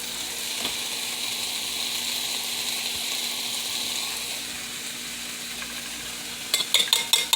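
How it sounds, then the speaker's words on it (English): Eggs scrambling with mushrooms in a pan, a continuous frying hiss underneath, then a quick series of utensil scrapes and taps against the pan toward the end. "Just scramble our eggs a little bit"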